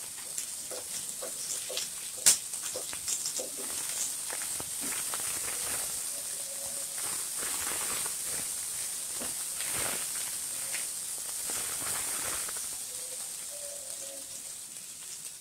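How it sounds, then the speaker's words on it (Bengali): Green chilies and onion fry in two tablespoons of mustard oil in a pot, giving a steady, even sizzle and hiss with a few small clinks of stirring. "এখন আমি একটি পাতিলে 2 টেবিল চামচ সরিষার তেল দিয়েছি, কাঁচা মরিচ পেঁয়াজ দিয়ে দিলাম, দিয়ে একটু ভেজে নিব।"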